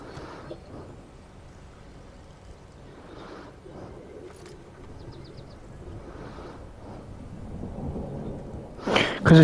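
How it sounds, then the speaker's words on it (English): Thunderstorm rolling in within the Fortnite video game, a low rumbling wash with rain-like hiss that builds steadily and peaks in a loud burst at the very end. "Because the storm's coming in now."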